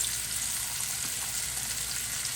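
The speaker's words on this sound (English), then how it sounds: "So I'm going to go ahead and get my mushrooms going. I'm going to saute them up really nice." Mushrooms sautéing in olive oil in a pan give a steady, close sizzle with soft crackle, continuous and even throughout with no talking.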